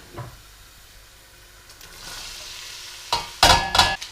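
Onions are tipped into a pan of garlic frying over an outdoor cooking setup, starting with a quiet background hiss that swells into louder bursts of sizzling and stirring scrapes near the end.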